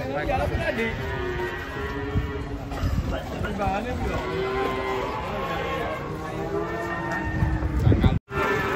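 Cattle arriving and being unloaded from a truck into Pasar Pon Ambarawa livestock market, with an agitated cow, give a busy low rumble of animals, hooves and crowd noise throughout, under people talking.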